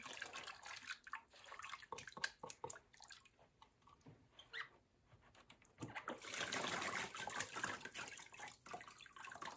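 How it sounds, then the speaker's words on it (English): Wet handmade paper sheet returned to a vat of water and pulp, giving scattered splashes, drips and trickles, then a longer swishing wash of water; fairly quiet and close, with no voices. "a really simple way to remedy that is to just put it back in the water"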